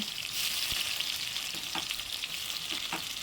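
Bay leaves and chopped onions fry in oil in a wok for mutton keema ghugni, a steady bright sizzle with a few soft stirring knocks, close and uninterrupted by talk.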